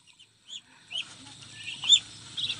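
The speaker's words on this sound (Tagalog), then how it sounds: "yung wild duck na yan, sumabay siya sa mga pato na yan" Domestic ducks with a wild duck among them give a few soft, scattered quacks and clucking calls outdoors, faint to moderate, with quiet gaps between calls and a low background hum.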